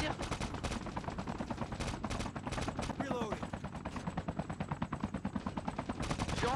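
Loud gunfire in the mobile shooter Call of Duty Mobile: rapid automatic bursts and repeated shots crowd the whole stretch, with only brief gaps, close and dense.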